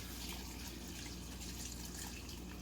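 Strained gravy liquid pouring into a Pampered Chef 4-cup measuring and mixing bowl, a faint steady trickling and dribbling of liquid, quiet and alone.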